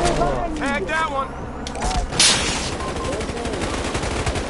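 Rapid bursts of video game gunfire crackle in a dense, loud stretch, with voices talking over the shooting and a sharper blast near the middle.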